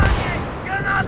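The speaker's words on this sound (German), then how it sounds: "Granate." Grenade blast in Battlefield 3 multiplayer, a single loud boom at the onset followed by rumbling battle noise and gunfire during an online match.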